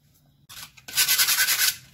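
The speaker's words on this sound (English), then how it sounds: "Now we're just gonna sand a bit more. Make sure we get as much rust as we can off of these dumbbells." Sandpaper scrubbing rust off old metal dumbbells, a short faint rub followed by a louder stretch of rapid, rhythmic back-and-forth abrasive strokes, close up with no talk.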